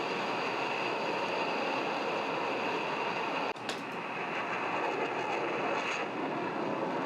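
An F-16 jet engine running in afterburner in the DCS flight simulator, a loud constant broadband roar that dips abruptly for an instant mid-way before resuming at full intensity.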